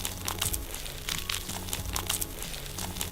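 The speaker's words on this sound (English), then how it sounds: "it is simply garlic being twisted and turned in one's hands" A bulb of garlic twisted and turned in the hands as foley gives close, continuous crunching and crinkling, with dry, papery grinding bursts that rise and fall.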